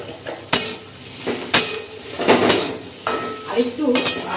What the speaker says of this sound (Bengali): আর পটলটা আমি এখন তেলে বেশ সুন্দর করে নাড়ছি